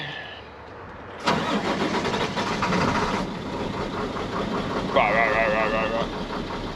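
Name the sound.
big old dump truck engine starting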